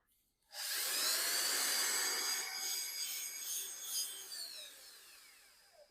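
A wooden river cutting board is polished with pumice, probably by a power tool, producing a loud steady whirring, rubbing hiss that starts abruptly and runs continuously, slowly shifting in pitch and easing slightly toward the end, with no talk.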